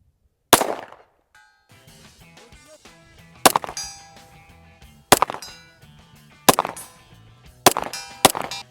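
Sharp, loud gunshots from an Echelon pistol fired outdoors in the cold, several separate reports spaced about a second or more apart, each followed by a short decaying echo.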